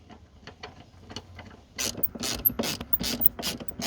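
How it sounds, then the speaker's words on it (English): Rapid clicking of a ratchet tightening seat bolts inside a Toyota Yaris GR, quiet at first, then louder, denser bursts of close-up clicks. "then just tighten them down with your ratchet."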